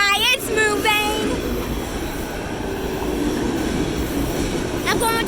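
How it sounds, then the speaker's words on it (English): A moving freight train with three engines hauling autorack cars rolls past up close, a loud continuous rumble and rattle of wheels with high squeals of wheels on rail at the start and end. "I'm going to touch this train while it's moving."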